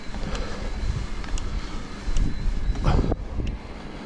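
Cold wind gusting over Ai-Petri mountain in Crimea, a steady roaring rush buffeting the microphone, swelling louder around the middle before easing.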